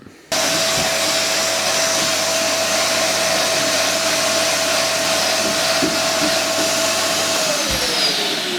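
A loud, steady whirring drone of a power sander sanding a door, running continuously, starting abruptly and winding down slightly at the end.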